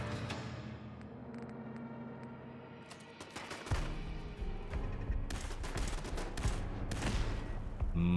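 A laser rifle fires in Fallout London, a string of sharp repeated zapping shots over faint music, growing busier and louder in the second half.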